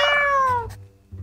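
A cat in the video game Drova - Forsaken Kin gives one clear, close meow with a falling pitch, followed by a short low rumble.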